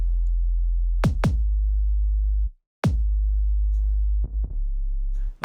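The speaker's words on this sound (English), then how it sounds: "the sub bass sounds like this" A synthesized sub bass line in a song plays long, deep, steady tones alone, broken by a short pause and punctuated by occasional kick-like transients and brief double hits, loud and smooth.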